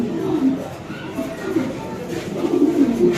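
Fancy pigeons coo repeatedly in low, throaty rolls close by, several birds overlapping in a steady murmur under light background noise.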